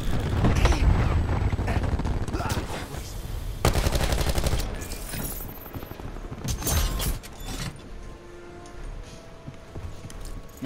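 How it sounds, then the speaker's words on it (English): Dense game combat from Call of Duty: Black Ops 4 with rapid bursts of gunfire and a loud cluster grenade blast mid-clip, followed by more scattered shots and mechanical clatter, loud and continuous throughout. "Throwing cluster grenade."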